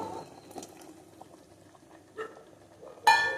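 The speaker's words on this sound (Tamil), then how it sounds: "இப்போ நான் புளி கரைச்சலை ஆட் பண்ணிக்கிறேன்." Tamarind water poured into a cooking pot, a soft liquid splashing and bubbling close by, with a brief louder splash near the end.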